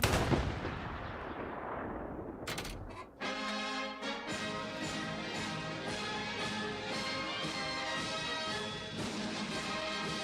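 Sustained gunfire from a celebratory volley in the World War II game Hell Let Loose, loud and continuous, with a dense rapid crackle of shots layered over mechanical rattling and ringing tones after a brief sharp burst near the start.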